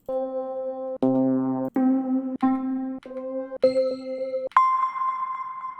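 Keys one-shot samples from a music library used for a reggaeton beat: a string of clean, separate electronic keyboard notes and chords, each struck and held briefly, ending on a brighter higher tone.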